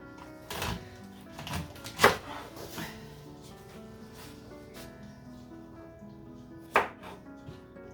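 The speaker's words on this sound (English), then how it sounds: "and then I'm going to cut off the green part." Knife chopping vegetables on a board in a home kitchen as the green tops are trimmed off: a few sharp, separated knocks with a louder cut near the start and another later, over quiet background.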